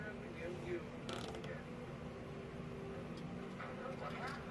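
Small screws being driven in to fasten the cover of a Panda portable compact washing machine, a quiet ratcheting, clicking mechanism in short bursts amid low room noise.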